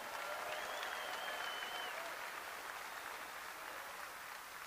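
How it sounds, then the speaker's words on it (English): Sustained crowd applause at a Senate campaign fundraiser rally, a broad wash of clapping from a large audience that stays loud throughout and eases slightly toward the end, with faint cheers mixed in. "Let's give him another big round of applause."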